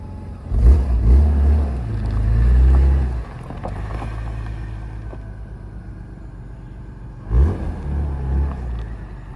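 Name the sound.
BMW E36 M3 engine and exhaust running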